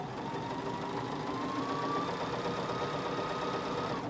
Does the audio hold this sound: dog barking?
no